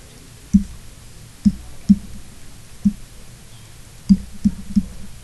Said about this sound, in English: the pleasant sound of all the clicking calculator buttons